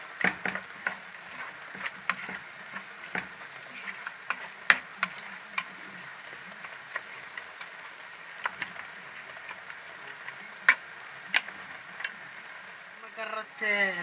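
Food frying in a pan, with a low, even sizzle broken by frequent sharp clicks and scrapes of stirring, fairly close and with no voices.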